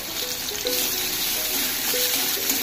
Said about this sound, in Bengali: ফোড়নে ভালো গন্ধ বেরোলে গ্রেট করা আদা রসুনটা দিয়ে দেবো